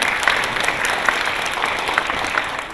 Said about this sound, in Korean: 참 어머니의 건강을 안위해서 감사의 박수 한번 올리겠습니다